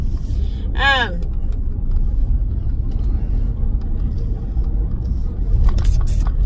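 A car cabin rumbles steadily from inside while the car is driven, a low, even road and engine drone that holds for the whole stretch, with brief voices over it.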